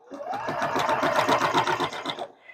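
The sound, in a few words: embroidery sewing machine stitching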